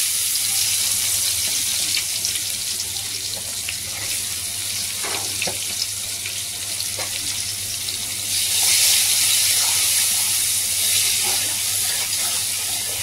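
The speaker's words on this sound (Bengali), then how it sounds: "এবার হালকা করে এবার পেঁয়াজ দেবো।" Onions frying in oil with bay leaves and spices give off a steady, close sizzling hiss that swells louder partway through, with no talking.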